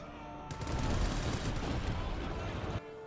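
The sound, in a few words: machine gun fire in Company of Heroes 2 video game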